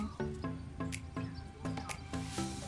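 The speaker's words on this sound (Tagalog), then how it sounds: "Tapos maririnig mo pa yung mga ibon." Birds chirping in a tree outside a window near a town in Batangas, a series of short squeaky calls, some close and clear, with soft background noise.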